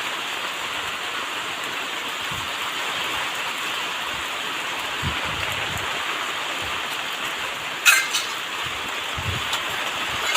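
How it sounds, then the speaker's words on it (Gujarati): Heavy rain falls across a wide area in Gujarat as a continuous rushing hiss, with scattered low thumps and a brief sharp clink near the end, no one speaking. "દૂર દૂર સુધી વરસાદ છે"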